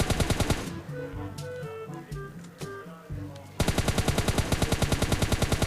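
Rapid bursts of automatic gunfire in a battle royale video game, sharp repeated shots at the start and again at the end with quieter scattered shots between.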